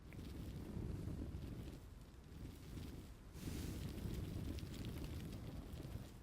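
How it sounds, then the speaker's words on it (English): A terrain tool grinding into a mountain in the video game Astroneer, heard as a steady low rumbling roar that swells and surges, continuous and muffled at a fairly low level, with no talking. "we are just going to carve into this mountain"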